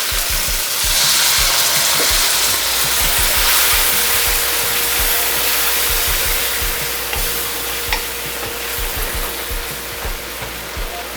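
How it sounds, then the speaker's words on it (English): Teriyaki sauce hits a hot pan of beef and sizzles loudly, a dense, steady frying hiss that holds for several seconds and eases slightly toward the end, with no voices. "now we're going to add our teriyaki sauce"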